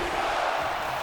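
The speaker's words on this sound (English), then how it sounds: "some ECW fans in the arena tonight cheering for Batista" Arena crowd in a wrestling video game roaring with cheers and shouts, a steady dense wash of noise across the whole moment with no pauses.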